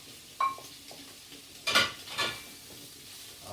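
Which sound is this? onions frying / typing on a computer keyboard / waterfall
onions frying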